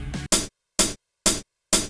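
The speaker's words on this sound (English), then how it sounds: "My hi-hat sounds like this." Four evenly spaced hi-hat hits from an electro pop beat, bright and hissy with short decays, heard alone and close after a brief moment of other sound.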